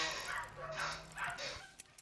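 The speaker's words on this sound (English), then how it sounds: "A few dogs outside." A few dogs bark outside, somewhat distant and faint: three short bursts of barking about half a second apart, over a low steady hum.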